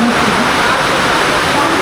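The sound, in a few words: heavy rain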